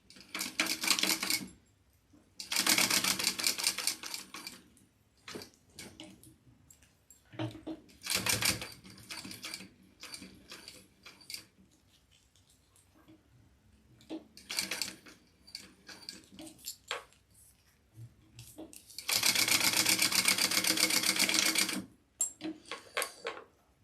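A sewing machine top stitching the straps of a backpack runs in several bursts of rapid mechanical stitching, loud and close, separated by quiet pauses with small clicks and handling noises.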